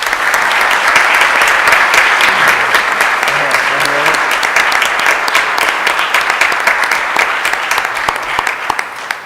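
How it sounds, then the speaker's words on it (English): Audience applause fills a city council meeting hall, a dense and steady round of clapping that holds strong throughout before easing slightly at the end, with faint voices murmuring underneath. "a big round of applause"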